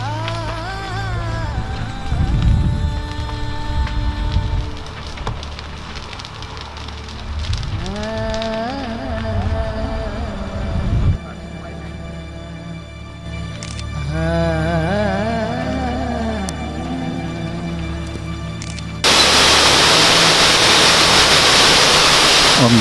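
A waterfall in the Darwin region of Australia pours with a steady, dense rushing hiss, joined by intermittent tonal sounds and a louder, brighter roar near the end.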